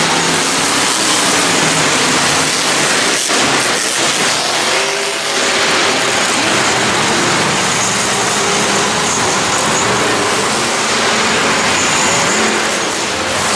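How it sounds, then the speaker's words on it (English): Monster trucks racing at a Monster Jam show in Cardiff with Zoomies exhaust still fitted, a loud continuous roaring engine blare with revving surges filling the arena, no talking. "Monster Jam is as loud as can be because Zoomies were not taken off the trucks yet"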